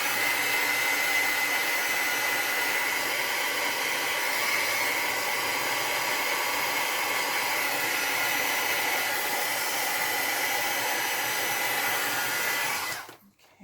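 A handheld hair dryer blows steadily to dry wet paint on a journal page, a constant close whooshing hiss that holds for over twelve seconds before cutting off abruptly.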